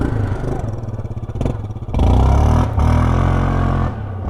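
A 2015–2019 Yamaha R1 sportbike engine roars loud and close, rising sharply in pitch as it pulls away under launch control, with a brief dip before the revs climb again.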